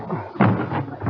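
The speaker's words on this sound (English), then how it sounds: "Come on, help me break this door down." Door being broken down in a radio drama sound effect, a heavy thud and crash against wood after a short lead-in, with muffled scuffling and voices around it.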